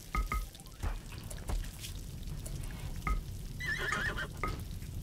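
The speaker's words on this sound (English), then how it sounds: "Bring that horse in." A horse whinnies in the colony-management game RimWorld, a rising, wavering neigh heard faintly amid scattered clicks and soft background game sounds, with no talking.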